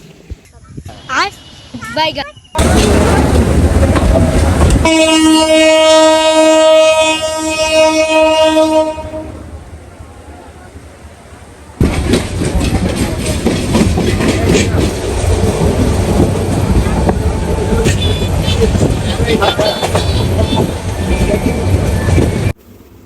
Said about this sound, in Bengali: সো ফাইনালি তো আমাদের ট্রেন ছেড়ে দিছে